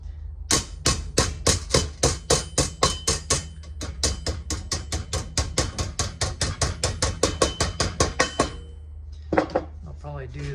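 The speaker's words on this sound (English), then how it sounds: "I might need to hammer a little because it's not quite wanting to go" Rapid, evenly spaced metallic hammer strikes on a grill part ring out close by on a bench, dozens in a row, then a short pause before a few final blows.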